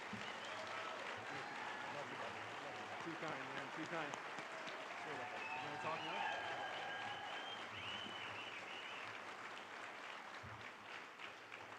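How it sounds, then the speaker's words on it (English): A large luncheon audience at a girls and women in sports event breaks into sustained, dense applause that holds steady for about twelve seconds, loud and continuous throughout. "could you give Derek a huge round of applause today for his service over the last"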